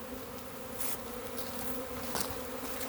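A honeybee swarm hums steadily inside a bucket, a dense continuous buzz with faint crackling movement throughout the short stretch.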